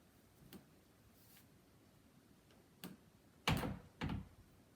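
A French door swings on Everbilt squeak-free hinges, giving only a few soft knocks and a couple of louder thuds near the end, with no squeak, in a quiet room.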